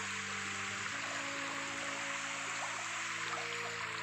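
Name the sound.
stream flowing by rice fields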